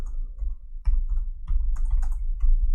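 Someone types on a computer keyboard in a quick, irregular run of close key clicks with a low thump under each press.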